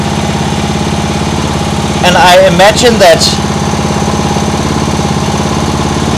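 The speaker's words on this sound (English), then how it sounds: "This is what I wanted from the Briggs engine." A Briggs & Stratton lawn mower engine mounted as a boat outboard runs slowly and steadily at low idle with a drumming, even pulse, while someone talks briefly over it.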